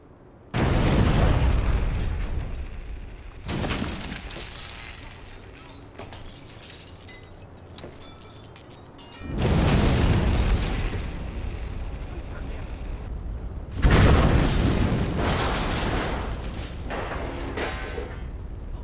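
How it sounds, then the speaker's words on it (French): Explosions in the video game Watch Dogs go off as several loud, broad bursts with lingering rumble and debris, separated by quieter gaps, under a voice. "dans le Watch Dogs qu'on a pu acheter, l'explosion au même endroit"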